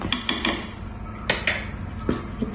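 A spoon scrapes and taps against a pan while curry with grated coconut is mixed, a few quick metallic clinks at first, then scattered knocks and scrapes, fairly close.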